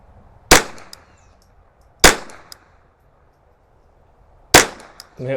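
Three sharp rifle shots from a KIDD 10/22 test-firing ammunition ring out at uneven intervals, each a crisp close crack with a brief metallic ring, separated by near silence.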